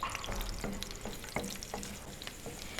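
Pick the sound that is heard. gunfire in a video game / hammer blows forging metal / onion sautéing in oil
onion sautéing in oil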